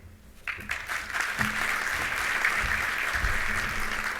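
Steady applause begins abruptly and continues as a dense, loud wash of clapping from a crowd, sustained to the end.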